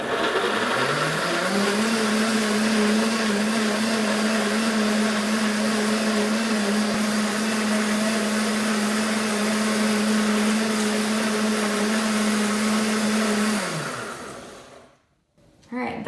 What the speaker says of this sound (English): the blender's about to go off